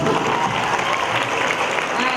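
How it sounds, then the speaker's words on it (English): Steady applause from an audience at a hostel day celebration honouring a long-serving warden, a continuous even wash of clapping with speech faintly mixed in. "Give her a big applause."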